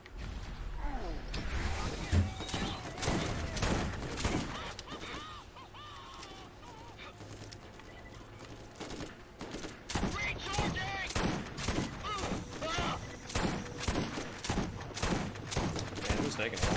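Gunfire in the video game Borderlands Remastered comes in rapid bursts of sharp shots, loud and close, with a player talking between and over the volleys.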